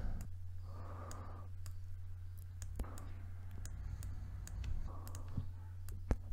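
Computer mouse clicking during editing in DaVinci Resolve: a string of sharp, faint, isolated clicks spaced irregularly over a low steady hum, with soft breathing in the quiet room.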